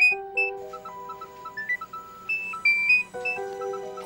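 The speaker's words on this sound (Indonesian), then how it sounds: "Kok ada bunyi HP sih?" A mobile phone rings with a bright, electronic melodic tone, short repeated beeping phrases in a quiet indoor scene, clear and fairly close with brief gaps between notes.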